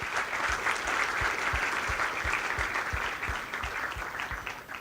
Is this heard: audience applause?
yes